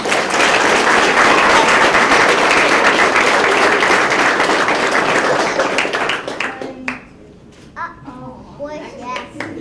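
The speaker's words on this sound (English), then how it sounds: "Let's give him a round of applause" Loud applause from a crowd at a police swearing-in ceremony, with children's voices mixed in, fades after several seconds, leaving scattered claps and speaking voices.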